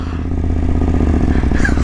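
A 2022 BMW F750 GS motorcycle idles close up, its loud exhaust giving a throbbing, rough rumble that holds steady throughout.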